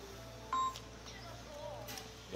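A phone rings indoors in a small café that was converted from a piano academy, giving short electronic tone bursts at a low level beneath a quiet room hum.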